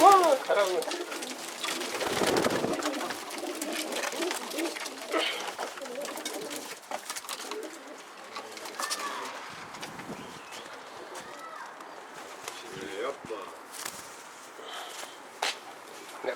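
Pigeons coo softly amid scattered wing flutters and shuffling, with faint voices in the background.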